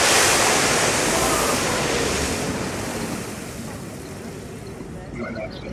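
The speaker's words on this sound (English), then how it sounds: "there's going to be a lot of water due to this waterfall" A rushing waterfall in the Planet Coaster game fills the scene with broad, steady roaring water noise, loud at first and easing slightly as it continues.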